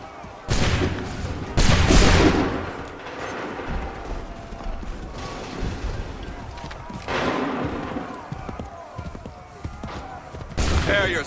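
Musket volleys ring out in Assassin's Creed 3 Remastered, with several loud broadband bursts of massed gunfire over a rumbling battlefield. Mechanical clatter follows the shots, and voices call out in between.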